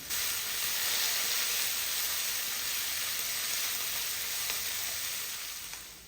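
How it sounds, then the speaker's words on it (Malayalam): Chopped carrot, onion, tomato and capsicum sauté in hot oil with a loud, even, continuous sizzle and hiss, with a couple of faint clicks and no talking. "ഒരു ക്യാരറ്റ് ഒരു ഉള്ളി ഒരു തക്കാളി ഒരു ക്യാപ്സിക്കം ഇതെല്ലാം ചെറുതായിട്ട് കൊത്തി അരിഞ്ഞതാണ് ഇതെല്ലാം ഒന്നിച്ചിട്ട് തന്നെ എണ്ണയിലേക്ക് ഇട്ട് കൊടുക്കുന്നുണ്ട്"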